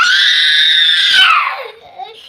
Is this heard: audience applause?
no